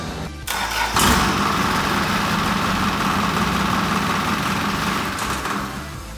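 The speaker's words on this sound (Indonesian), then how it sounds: "menghidupkan mesin kendaraan atau engine stand tersebut" A conventional diesel engine mounted on an engine stand cranks, catches and settles into a loud, steady idle close by, with no talk over it.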